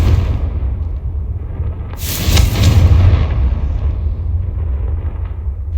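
A Confringo fire spell explodes in Hogwarts Legacy: a loud, bright burst about two seconds in that swells and then fades into a heavy, rumbling low background of combat noise. No one speaks.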